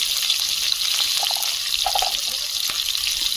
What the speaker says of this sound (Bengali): আলু ভাজার তেলে মাংসটা বসিয়ে দেব তেল গরম হয়েছে পেঁয়াজ দিচ্ছি